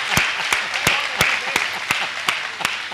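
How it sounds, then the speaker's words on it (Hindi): A comedy show audience claps in a brief burst of fairly sparse, rhythmic applause at moderate volume, with a little voice underneath. "ताली ढंग से बजाओ"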